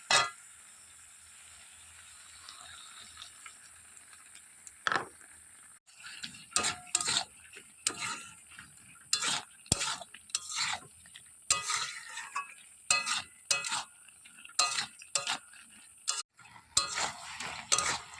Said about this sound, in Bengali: আলু আর পটলটাকে ভালোভাবে কষিয়ে নেব।